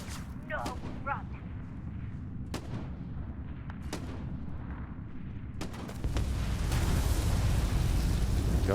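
Gunfire and heavy blasts from the sci-fi video game Starfield ring out in scattered sharp bursts over a rumbling battle din that swells louder near the end, with voices speaking over it.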